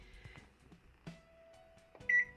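A microwave oven is shut and set to 800 watts for an eggless pineapple cake. Soft clicks and thumps lead to a short faint tone and then a brighter electronic beep at the end, all quiet and close.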